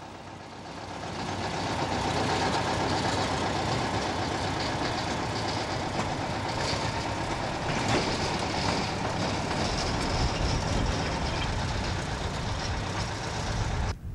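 A locomotive hauling up to twenty small carts along narrow rails in a moor, heard as a steady, loud, close rumble and clatter of wheels that continues evenly throughout with no voices.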